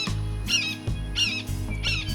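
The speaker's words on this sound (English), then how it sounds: "There's that hawk again." A hawk calls three times in a steady rhythm, sharp squawking cries heard clearly over a low, constant hum.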